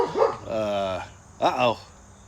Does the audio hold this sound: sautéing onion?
no